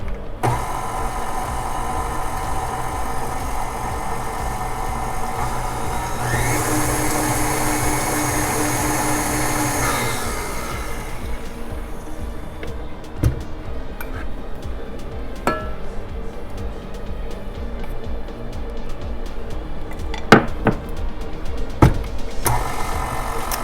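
An electric mixer whirs through low carb lemon pound cake batter with a steady motor hum, rising to a brighter, louder whir midway before settling back, with some clatter near the end.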